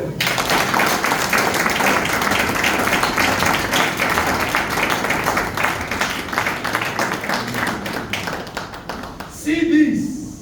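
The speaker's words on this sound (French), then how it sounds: "Applaudis le Seigneur." A church congregation claps together in a steady, lively rhythm, loud and continuous for about nine seconds before the clapping ends and a voice speaks.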